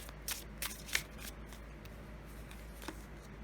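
Oracle cards being shuffled and drawn by hand, a few quick riffling flutters and soft card slaps close by over a quiet room tone.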